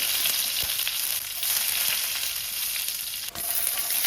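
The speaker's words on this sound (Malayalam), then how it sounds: "നല്ല നാടൻ വെളിച്ചെണ്ണ ഒഴിച്ചു വെളിച്ചെണ്ണ ചൂടായി കടുകിടാം പച്ചമുളക്" Mustard seeds and green chillies frying in hot homemade coconut oil, a loud continuous sizzle close by with a few faint pops and crackles throughout.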